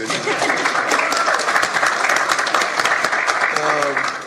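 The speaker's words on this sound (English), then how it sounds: "You can clap, it's okay." A studio audience bursts into sustained applause after news of a coach being cured of cancer, dense steady clapping filling the whole stretch with a voice starting to speak near the end.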